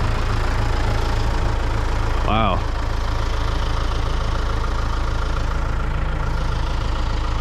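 A tractor engine running steadily as it is driven onto a trailer, a loud, continuous low idle-like rumble throughout, with a brief spoken exclamation over it partway through.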